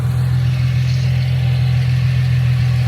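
A 2010 Ford Mustang's 4.0L V6 idles steadily under an open hood, a loud, even low hum with no revving and no voices over it.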